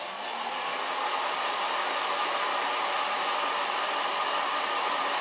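A hair dryer blows steadily on freshly coloured hair, a constant close airy whoosh with an even drone from start to finish.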